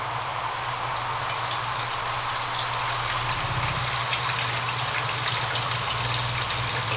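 Washing machine in a tiny off-grid house spinning up faster, a steady mechanical hum and whirring with a watery, rushing texture, constant and fairly close, with no voices.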